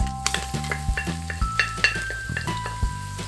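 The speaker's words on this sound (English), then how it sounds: "Just gonna give that a quick stir." A spoon stirs garlic, cinnamon, star anise, bay leaf and lemongrass in oil inside an Instant Pot for Vietnamese beef stew, with close scraping taps and a soft sizzle over a few seconds.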